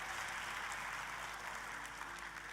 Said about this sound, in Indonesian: Ayo tepuk tangannya yang paling meriah buat Tuhan kita.